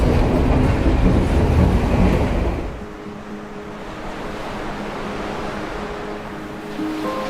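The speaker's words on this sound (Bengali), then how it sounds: "রেলের আনাগোনা দেখতে দেখতে সমুদ্রের গর্জন শুনছি" A train passes close by a seaside rail line in Colombo, Sri Lanka, a loud rumbling roar that fades after a few seconds, leaving the steady wash of ocean surf underneath.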